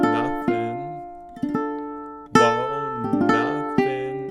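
A ukulele plucks a slow melodic riff, single notes and strummed chords ringing out one after another with pauses between, played solo.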